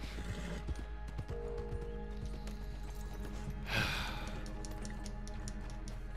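Horse hooves clip-clop in Red Dead Redemption 2. The steady beat runs under game ambience with a low hum, and a brief louder burst comes midway.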